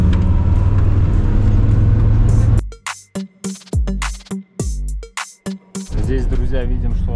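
A motorhome labours along a road in second gear, giving a loud, steady low engine drone at first, then becoming choppy and broken up by voices talking nearby before the drone returns.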